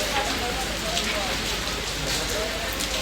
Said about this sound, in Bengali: প্রতি তিন দিন ধরে দেখতে পাচ্ছেন প্রচুর বৃষ্টি